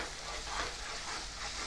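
Thinly sliced potato curry frying in a pan, a dense, steady sizzle with scraping stirring noises, close and loud throughout.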